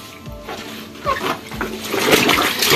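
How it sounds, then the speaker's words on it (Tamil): A shirt is swished and rinsed in a bucket of water by hand while white clothes are washed, giving repeated splashing and sloshing surges, close and fairly loud, with no talking. "இந்த தண்ணியில் தான் நம்ம சட்டையை அலச போகிறோம்"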